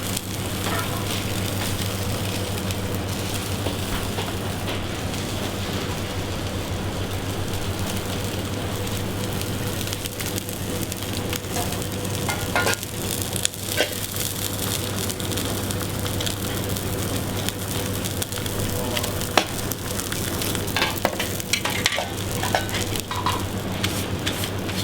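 A French Brittany brill fillet fries skin side down in a pan, giving a loud, dense, continuous sizzle and crackle that holds steady and close throughout, with no talk over it.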